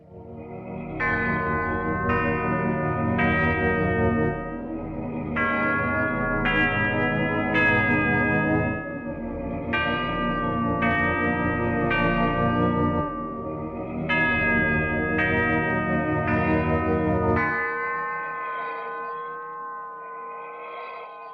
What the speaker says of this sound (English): I also included heavy breathing and organ to make it nice and creepy